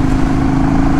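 An older motorcycle's engine runs loud and close, holding a steady, dense drone with no break and no voices.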